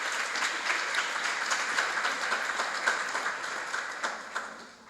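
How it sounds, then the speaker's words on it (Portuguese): Audience at the Jornadas Invera 2024 conference on new antimicrobials applauding for several seconds, steady dense clapping that slowly thins toward the end, with no talk over it. "Un aplauso también para Rachel"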